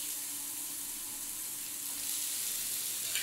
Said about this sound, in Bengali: এবার ভালো করে পেঁয়াজটা ভেজে নিতে হবে যাতে একটু লাল হয়।